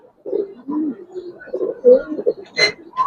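Giribaz coloring pigeons coo close up in soft, repeated low murmurs, with a brief voice breaking in near the end.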